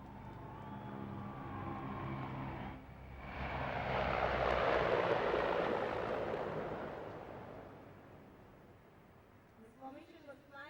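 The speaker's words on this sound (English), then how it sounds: "hear the satisfying growl of the aircraft" Military aircraft engines swell to a broad roaring growl as a formation flypast passes overhead at a Republic Day parade, then fade away, with a commentator's voice heard before and after.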